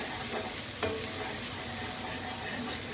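Shallots and garlic sizzle steadily in a hot pan as they are stirred, a dense, close frying hiss that runs without break, with a few faint scrapes and no voices.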